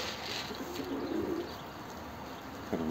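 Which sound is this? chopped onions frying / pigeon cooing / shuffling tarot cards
pigeon cooing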